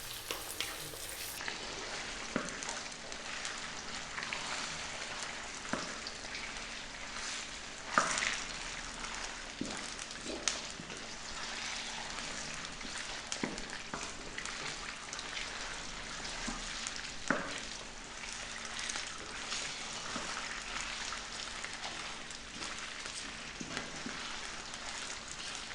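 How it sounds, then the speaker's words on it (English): Floured chicken frying in a pan on high heat, giving a steady, soft sizzle and crackle with occasional sharper pops and stirring clinks over nearly half a minute. "Then we're going to drop in the floured chicken. In that goes. We're on a high heat."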